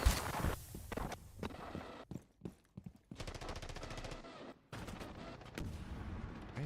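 Gunfight in the video game Battlefield 6: loud bursts of rapid automatic gunfire broken by short silences and single shots, with faint footsteps between volleys and no speech.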